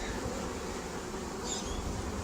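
Honeybees at an opened hive box, nurse bees among them, give a dense, continuous buzzing hum close by, steady and unbroken throughout.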